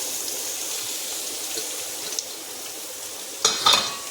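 Four to five onions dropped into hot oil for lobia ki sabji, a steady bright sizzle and fry with a couple of sharper spits and stirring noises near the end, close by and without talk.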